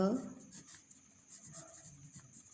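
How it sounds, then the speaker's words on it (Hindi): Writing on a board during a classroom lesson makes soft, repeated scratching strokes. A brief voice is heard at the very start, and the strokes continue faintly and close. "सॉरी यहाँ लिखती हूँ"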